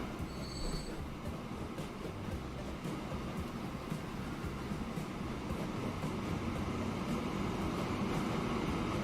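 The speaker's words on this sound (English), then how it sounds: "These trains are getting increasingly louder" Trains rolling through a Transport Fever 2 rail network, a steady broad rumble of wheels and carriages with a faint squeal near the start, continuous and fairly loud, with no voices.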